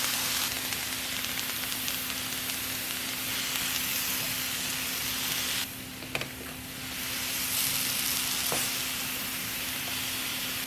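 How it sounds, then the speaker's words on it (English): Broccoli with a sprinkle of garlic powder cooks in a pan on low heat, giving a continuous close sizzle and hiss with one short dip and a faint clatter midway, no voices. "we're going to put that on low and just let that broccoli cook"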